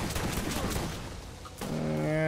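Shotgun blasts in Borderlands GOTY Enhanced: a dense burst of loud, close shots over the first second, then quieter game sounds and a rising tonal hum.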